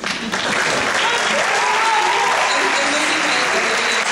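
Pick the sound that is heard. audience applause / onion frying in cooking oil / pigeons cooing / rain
audience applause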